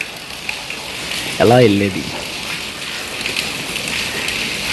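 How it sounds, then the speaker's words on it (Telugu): Steady heavy rain hisses without letup, with a brief spoken voice partway through. "వర్షం పడుతుంది నాన్ స్టాప్గా"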